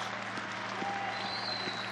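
A stadium crowd applauds a football player being substituted off during a Fenerbahçe versus Trabzonspor Turkish Cup semi-final second leg, a dense, steady wash of clapping from the stands with no break.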